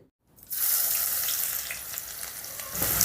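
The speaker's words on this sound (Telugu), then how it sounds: "ఇప్పుడు ఈ ఉల్లిపాయల్ని రంగు మారేంత వరకు వేపుకుందాం" Thinly sliced onion hits about three tablespoons of hot oil in a kadai on the stove, bursting into a loud, steady close-up sizzle after a brief silence, with no talking.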